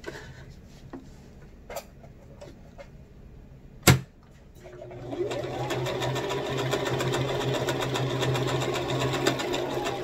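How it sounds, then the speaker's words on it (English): A sewing machine stitching fabric for a face mask starts up after a few quiet taps and a sharp thud, then runs in a steady fast whirring chatter close by. "we're gonna sew that together"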